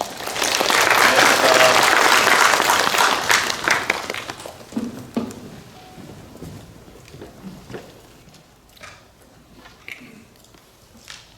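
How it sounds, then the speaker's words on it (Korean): Loud applause from a seated audience at a youth village best-practice presentation event in Korea, welcoming a founder to the stage; dense clapping for about four seconds that thins into scattered claps and fades. "박수로 환영해 주십시오."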